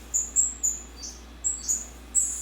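Birds in a home aviary bird room give sharp, high, thin chirps, about seven short calls spaced irregularly over a low steady room hum, with no talk.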